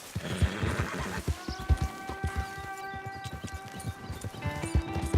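Horse hooves clip-clopping at a steady walking pace in Red Dead Redemption 2, close and regular, with a brief neigh near the start and a faint background tone under the hoofbeats.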